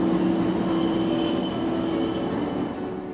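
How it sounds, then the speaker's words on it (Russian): An international passenger train from Moscow slowly pulls into a station platform at Manzhouli, its wheels squealing steadily with a continuous rolling rumble of the railcars, loud and close throughout, easing off slightly at the end. "на перрон вот уже в 44-й раз в этом году медленно прибывает поезд международного сообщения из Москвы"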